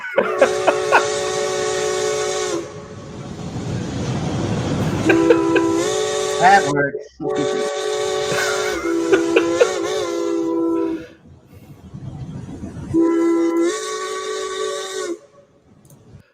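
A loud train steam whistle sounds in several long, sustained shrieking blasts separated by hissing steam gaps, close and dominant, with a brief voice talking between blasts.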